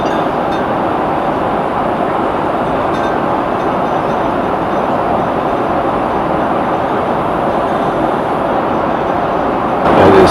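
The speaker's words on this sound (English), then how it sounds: "I can hear the bottles rattle in the background" Steady loud rumbling airplane cabin noise in turbulence, with a dense rattling texture of bottles shaking throughout, and a brief louder swell at the end.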